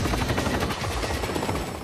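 Helicopter in an action film scene, a loud, close, fast rotor chop pulsing steadily throughout under a dense, rumbling mix, with no talk.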